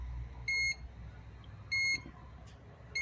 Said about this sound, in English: you can see it beeping, and pretty much a solid red beep. That's telling you that there's power there.